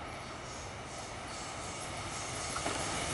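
An X'Trapolis electric train passing on the elevated skyrail at Toorak Road in Melbourne, a steady loud rolling rumble with wheel noise building slightly as it goes by.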